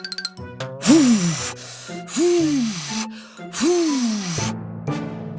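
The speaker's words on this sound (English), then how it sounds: "the wolf decided to blow on the pigs" A voice blows three long, forceful gusts of air, each with a rising and falling groan, a short pause between them.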